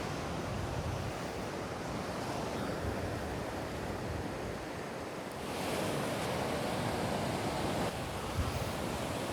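Ocean waves of an incoming tide roll and wash on a shore in a steady broad surf roar, with wind buffeting the microphone and a slightly louder surge partway through.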